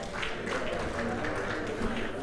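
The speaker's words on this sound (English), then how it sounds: "Round of applause, everyone, while we get ready." Audience applause at a conference presentation, a steady wash of clapping that runs the whole brief moment with voices talking over it.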